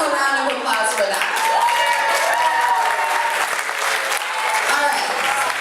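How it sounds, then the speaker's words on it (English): Audience applause at a comedy roast, a full, steady burst of clapping from the room lasting several seconds, with some voices and murmurs audible underneath. "So we should probably give him a round of applause for that"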